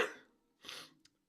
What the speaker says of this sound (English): my coughing and my ribs hurt from coughing so much overnight and all day